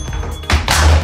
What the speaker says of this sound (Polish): aż mi spadł timer